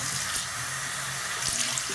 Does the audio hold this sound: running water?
yes